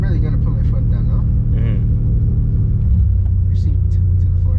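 A 3G Mitsubishi Eclipse under diagnosis rumbles loudly from inside the car with a low, steady engine drone that rises a little in pitch toward the end, while a voice talks over it.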